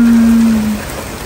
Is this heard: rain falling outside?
yes